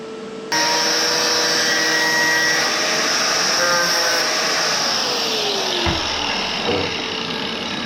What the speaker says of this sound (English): We may have to drill that hole out just a little bit.